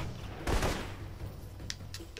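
Blind-fire gunshots in the video game Alpha Protocol make a short burst of rapid shots, then a couple of sharp, quieter single cracks, all fairly faint and with no talking.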